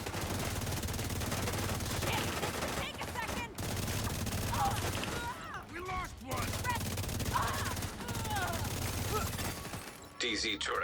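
Video game gunfire from The Division 2, bursts of automatic weapon shots repeating over a steady game soundscape, with a voice talking over the action.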